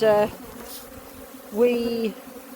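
Honeybees from an aggressive, ratty colony buzzing close by in two short, loud bursts of droning hum separated by a brief lull.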